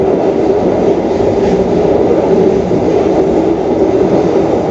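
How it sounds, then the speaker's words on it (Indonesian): The Serayu passenger train rolls across the Cikubang railway bridge, a loud, steady rumble of wheels on track heard from on board, continuous throughout with no talk. "sebentar lagi kereta api Serayu akan melintas jembatan Cikubang"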